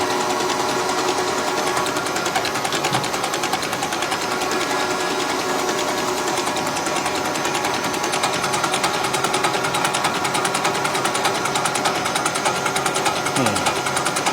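Monaco Dynasty motorhome diesel engine with a P7100 injection pump cranking and running, a steady dense mechanical clatter held loud and close throughout with no break.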